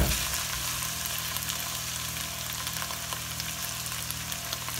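Tomato paste sizzles in a hot pan with browned lasagna meat, a steady crackling fry that holds at a moderate level throughout, without any talk.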